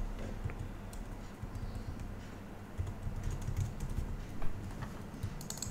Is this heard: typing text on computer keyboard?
yes